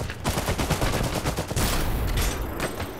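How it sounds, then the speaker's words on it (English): Submachine guns fire in rapid bursts in the Iron Harvest strategy game, loud and close, the rattling volleys coming one after another with explosive battle noise layered in. "is equipped with submachine guns, which can be very deadly if they close this"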